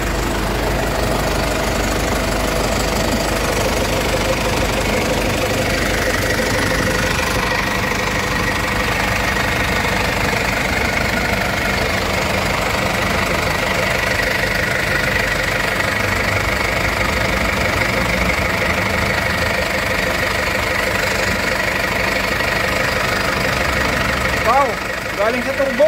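A Ford Everest diesel engine idles with a steady, rattly mechanical hum and a faint turbo whine, close and continuous, while someone talks over it.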